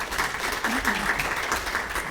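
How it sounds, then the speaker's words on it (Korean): A conference room full of people applauding at a Korean credit union performance report event, steady and continuous, with a voice faintly audible through the clapping. "다시 한번 큰 박수 부탁드리겠습니다"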